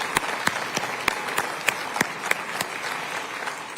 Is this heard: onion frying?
no